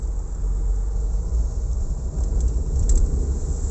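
A 1993 Fiat Panda Selecta 1.1 engine with ECVT automatic gearbox in L holds a steady high rev, a constant droning hum with a deep rumble that barely changes throughout.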